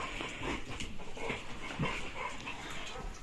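A rescued dog whimpers and whines close by indoors in a continuous, fluttering string of soft cries, with no one speaking.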